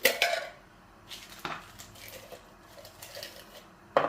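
A metal whisk clinks and scrapes against a pan as it stirs Mountain Dew being reduced down, giving a few sharp metallic taps at the start and end with quieter patter between.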